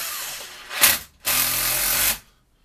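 A power driver sends screws in to fasten a faceplate onto a wood lathe chuck, two short whirring bursts, the first brief and the second longer at about a second, close and loud with silence after.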